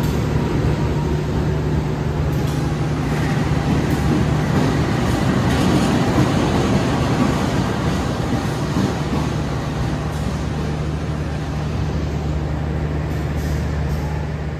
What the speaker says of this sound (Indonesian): Ini lokomotif kereta api Sembrani yang baru bisa tiba dari Gambir